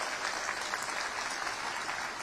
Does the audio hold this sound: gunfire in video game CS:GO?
no